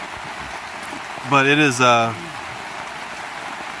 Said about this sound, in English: You can see the rain running down the guy lines and dripping off the tarps.